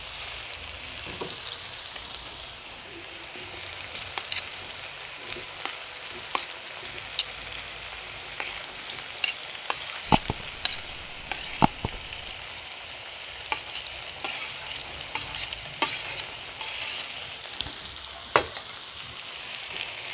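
Three-colour capsicum being stirred into pepper chicken in a pan over high heat, a steady close sizzle of frying broken by irregular scraping clicks of the spoon against the pan.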